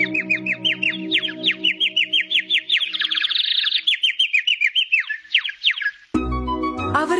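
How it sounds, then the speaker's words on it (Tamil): A snow-white bird sings a long, lively run of rapid chirps and warbling trills, bright and close over soft background music, ending in a sudden swell of music. "பறவை அவர்களுக்காக அழகிய குரலால் பாடல்களை பாடியது."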